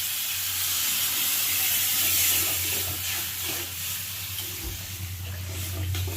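Water poured into a hot pan of sticking curry sets off a loud, continuous hissing sizzle with bubbling steam, heard close and steady.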